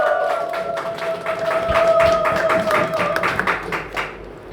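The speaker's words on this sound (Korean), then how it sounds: "김은혁 청년 큰 박수로 환영해 주시면 감사하겠습니다" Audience clapping welcomes a young North Korean defector speaker at a press conference, a loose, moderately loud patter of hands over a steady ringing tone throughout.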